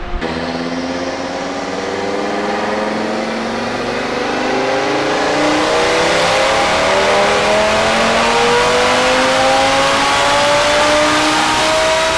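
A TTE777-upgraded Audi RS3 engine on a dyno, run in front-wheel-drive mode, revs in one long, loud pull with its pitch climbing steadily for about twelve seconds, with no talking.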